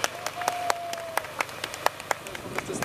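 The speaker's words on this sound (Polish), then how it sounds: "Brawa dla Viestinu, który jest organizatorem." A small outdoor gathering at an anniversary commemoration of the Greater Poland Uprising claps for the organiser, sparse distinct handclaps in an irregular rhythm, with a faint tone in the background.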